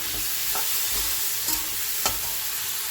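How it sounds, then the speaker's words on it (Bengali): Bay leaf, green chilli and nigella seeds sizzling in hot oil, a steady close hiss of frying with a few soft stirring scrapes, no voices. "দিয়ে দিলাম তেজপাতা আর কাঁচা লঙ্কা, কালো জিরে ফোড়ন"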